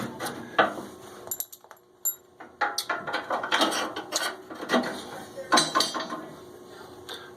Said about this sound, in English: Now it's time to put the discharge guard on.